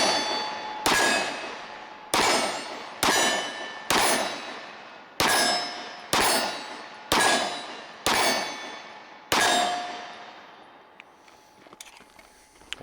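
Bullets from a Springfield Armory Ronin Commander 1911 pistol striking steel targets, about eleven sharp metallic rings spaced roughly a second apart, each ringing out and decaying, loud and near.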